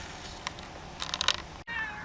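A domestic cat meows a few times, short faint calls at close range with a longer meow near the end, alone with no talk.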